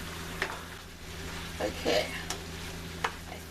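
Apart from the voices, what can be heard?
black bean sauce boiling down in a pan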